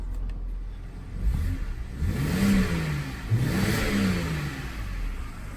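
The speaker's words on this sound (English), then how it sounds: "Car is running nice and healthy." A BMW X5 engine idles and then revs up twice, each rise and fall clearly audible as a smooth whir, with no talk over it.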